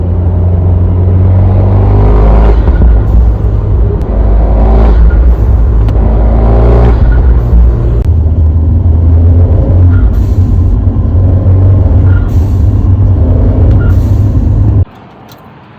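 A car fitted with a Forge blow-off valve driving, a loud rumbling engine that swells and eases with throttle under heavy road and wind roar, cutting to a quieter interior near the end, no voices.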